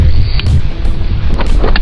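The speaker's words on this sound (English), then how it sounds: "So there's wind coming out." Strong wind buffeting the microphone aboard a small sailboat in a blizzard, loud gusty rumble and roar that surges and dips continuously, with brief hissy bursts over it.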